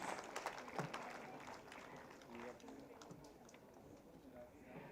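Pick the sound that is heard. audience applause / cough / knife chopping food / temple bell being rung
audience applause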